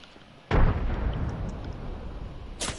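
A frag grenade detonates in Apex Legends with one loud, deep blast that tails off into a long rumbling decay, followed by a second sharp burst near the end.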